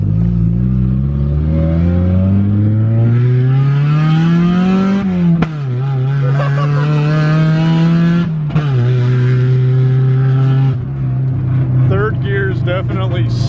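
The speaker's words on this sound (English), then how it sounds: "very loud test drive" Mazda Miata engine revving hard on a loud test drive, its pitch climbing through several gears with sharp shifts between sweeps, close and dominant.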